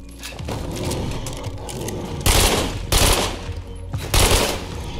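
Bursts of automatic gunfire in State of Decay 2, a zombie survival video game: three loud rapid-fire volleys of a few seconds each, separated by short pauses, over steady game background noise.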